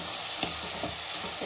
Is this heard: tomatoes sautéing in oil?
yes